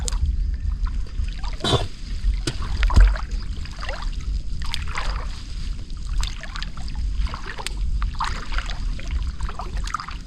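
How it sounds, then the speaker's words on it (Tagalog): A small wooden fishing boat passes on a river lined with fish nets, its low engine rumble steady and moderately distant over soft lapping water, with a few brief knocks. "May magdaan na bangka mo."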